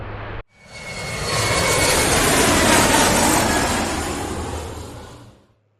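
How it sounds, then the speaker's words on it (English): A British Airways airliner taking off at Sydney Airport, a loud roaring jet engine that swells up after a brief cut, peaks midway, then slowly fades as the aircraft departs, with no talking. "we've got the British Airways that is about to take off"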